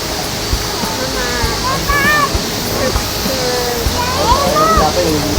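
O'daru waterfall, one of the Kawazu Nanadaru falls, pours in a continuous broadband rush while people chat and call out nearby over the roar.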